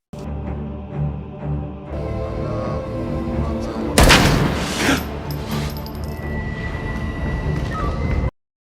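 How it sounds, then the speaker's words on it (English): Gunfire in a film police shootout: a sudden loud crack and booming burst rings out over a dramatic musical score, followed by scattered sharper shots and a lingering tonal drone. "Another shootout ensues"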